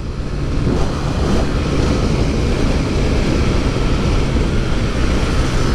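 Two motorcycles, a Yamaha R15M and an Apache RTR 160 4V, at full throttle in a drag race: a steady, loud, broadband engine roar that holds without a break.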